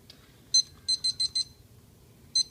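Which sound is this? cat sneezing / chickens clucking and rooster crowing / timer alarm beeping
timer alarm beeping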